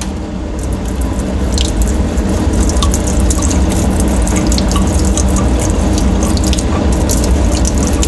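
Running deionized water rinsing a silicon wafer at a lab sink, a steady close splashing flow with small irregular drips and clicks, continuous and without voices.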